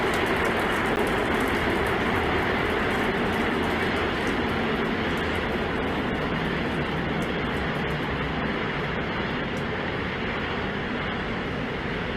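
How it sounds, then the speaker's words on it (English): The SpaceX Starship first stage, driven by 33 Raptor rocket engines in flight, produces a continuous, loud, broadband roar that stays steady and dense throughout, with faint crackle and no voices. "33 Raptor engines powering the first stage."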